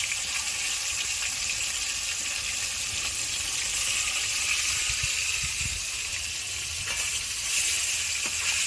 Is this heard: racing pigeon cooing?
no